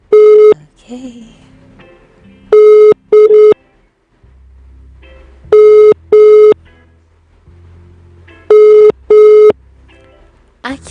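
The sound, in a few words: phone call ringing unanswered, busy signal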